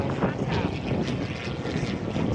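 A Zivko Edge 540 aerobatic plane at the Battle Creek airshow, its propeller engine roaring steadily and loud throughout as an announcer talks over it.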